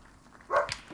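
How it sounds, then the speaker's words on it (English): A dog outside lets out one short, muffled bark, slightly distant and heard alone over quiet room tone. "That's the dog outside going mad."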